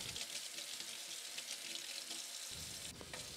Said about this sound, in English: Rinse out the coffee pot.